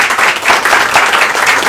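Audience at a JavaScript developer meetup giving a short burst of steady, full applause, dense clapping from a roomful of people.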